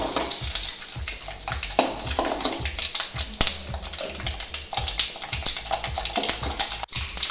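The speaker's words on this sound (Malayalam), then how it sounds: "ആ കടുക് പൊട്ടി കഴിയുമ്പോൾ" Mustard seeds splutter and crackle in hot oil for a Kerala-style beef pepper roast, a dense continuous sizzle peppered with rapid sharp pops, close and loud without any voices.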